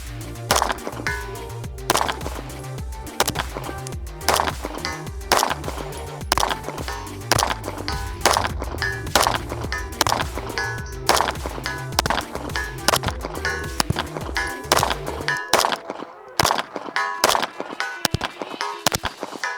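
A rapid string of pistol shots through a Hayes ported Cobra barrel rings on steel targets, sharp cracks in quick uneven succession, loud and close, then a sudden stop near the end.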